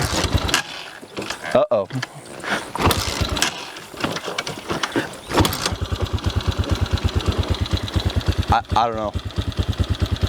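X-Pro Hawk 250 dual sport motorcycle engine started cold, with several cranking attempts and brief catches before it fires into a rapid, even idle putter; a person talks in between.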